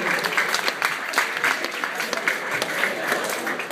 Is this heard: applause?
yes